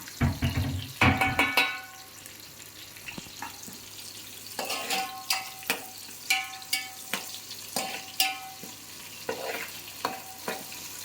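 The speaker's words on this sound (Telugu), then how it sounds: "పచ్చిమిరపకాయలు ఉల్లిపాయలు క్యారెట్లు ఇవన్నీ ఆయిల్లో నెయ్యిలో అయితే మనం బాగా ఫ్రై చేసుకోవాలి" Green chillies, onions and carrots sizzle in oil and ghee in a pan, with repeated scraping stirs of a spoon and a steady crackle of frying underneath, close by.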